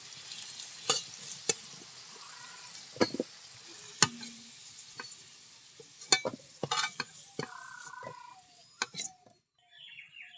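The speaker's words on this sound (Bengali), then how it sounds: "ওই মশলাটা এখন তেলের মধ্যে দিয়ে দেব" Ground spice paste for a Bengali pea kofta curry frying in oil: a soft, steady sizzle with scattered sharp pops and crackles, plus occasional clinks of a utensil stirring the pan.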